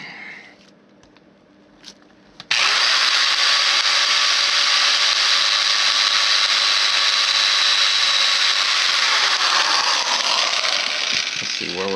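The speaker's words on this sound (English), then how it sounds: "Let's go ahead and drill out our tires." A power drill whines loudly and continuously as it bores out the tires of a toy gravity racer car, starting abruptly after a few quiet seconds of small clicks and running steadily at close range before tapering at the end.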